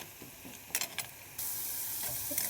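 Onions and tomatoes are sautéing in a pan, with a soft steady sizzle and hiss and a few quick stirring scrapes early on, close and fairly quiet, with no talking.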